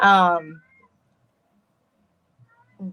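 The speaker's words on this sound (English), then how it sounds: "if you hear a cat, one of the cats is out" A house cat lets out one loud, drawn-out meow close by, then near silence before a short, faint second meow at the end.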